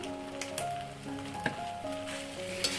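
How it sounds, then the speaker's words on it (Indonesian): Flat rice noodles being stir-fried with oyster sauce in a pan make a steady sizzle and frying crackle, with a few scraping stirs of the spatula. Several faint tonal hums run underneath throughout. "Lalu ini akan saya aduk-aduk sebentar supaya lebih tercampur merata dan tidak gosong bawahnya."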